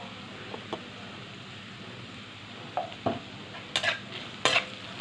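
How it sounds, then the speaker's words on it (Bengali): Low sizzling of spices with salt, turmeric and chili powder in a pan over low heat under repeated scraping strokes of a spatula stirring, the clatter growing louder toward the end. "এবার এটাকে ভালো করে নাড়াচাড়া করে একটু ভাজা ভাজা করে নেবো ধিমে আঁচে"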